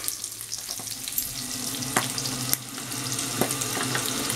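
Sea bass fillet pan-frying in butter: steady, close sizzling and crackling with occasional sharper pops and light scraping, with no talk.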